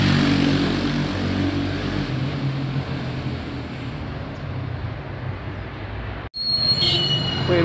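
Morning street traffic in Popayán, with motorcycles and cars passing as a continuous rumble and hiss that drops out briefly near the end before returning.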